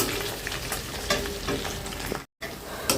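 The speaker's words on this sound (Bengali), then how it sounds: "পেঁয়াজ দিয়ে দিছি পেঁয়াজটা ভাজা হলে জাস্ট মশলা দিয়ে দেবো" Onions sizzle and fry steadily in a pan for egg bhuna, a dense close crackle with occasional stirring scrapes, broken by a brief silent gap near the end.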